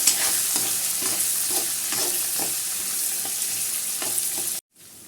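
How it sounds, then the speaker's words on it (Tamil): Green chillies and curry leaves sauté in a hot pan, a bright continuous sizzle broken by rhythmic spoon stirs, ending abruptly near the close. "கருவேப்பிலை எல்லாம் போட்டு நல்லா வதக்கிக்கலாம்"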